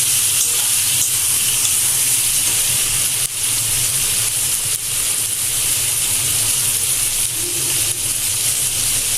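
Tatkini fish with red chili paste and cumin paste sizzles steadily in a pan after water is added, a loud, continuous frying hiss with faint stirring clatter and no talking.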